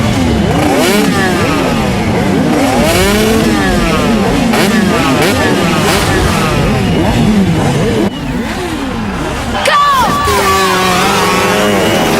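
A motorcycle engine revs loudly and repeatedly, pitch rising and falling, over a noisy crowd clamor with shouting voices.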